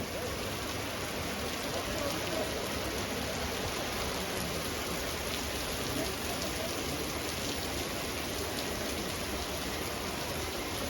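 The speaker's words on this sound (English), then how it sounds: "As we reached the hotel, it started raining." Steady, dense rainfall hissing continuously at a hotel in Sri Lanka, heavy and even throughout with no pauses.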